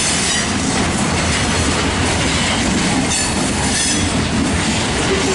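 A freight train with a CP locomotive mid-train as distributed power rolls past nearby with a loud, continuous roar of wheels and rattling cars, with no voices.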